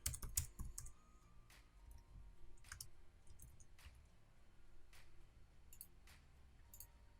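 Keys clicking on a computer keyboard as text is typed, a sparse irregular run of soft taps with pauses between bursts, close and quiet.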